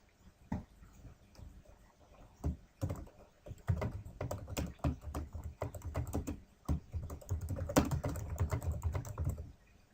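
Fingers type text on a computer keyboard while working in Autodesk Inventor software, a close, crisp run of irregular key clicks with brief pauses, speeding into denser bursts toward the end.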